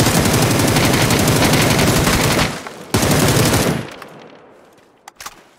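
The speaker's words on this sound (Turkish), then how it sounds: "Özellikle susturuculu AVM'nin sesi böyle ASMR videoları gibi." Rapid, steady bursts of automatic fire from a suppressed AUG rifle in PUBG, loud and continuous for about two and a half seconds, then resuming briefly before fading into a few scattered distant shots.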